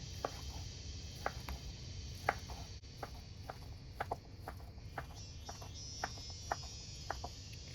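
Imitation crab sticks being chopped into small pieces with a knife on a board, a dozen or so quick, light thumps at an irregular rhythm over a steady low background hiss, with no talking.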